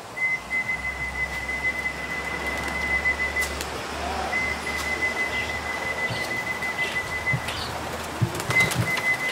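Racing pigeons arriving back at the loft at the end of a competition flight in Kosakowo, with wing flaps and soft cooing amid steady outdoor ambience and a thin, continuous whistling tone, without talk.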